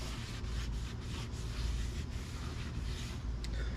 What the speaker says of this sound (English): I got some brake cleaner on some shop towels, and I'm going to wipe them off